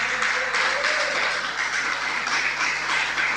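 Church congregation applauding during a sermon, a steady broadband wash of clapping that stays loud and even for the whole stretch, with no voices over it.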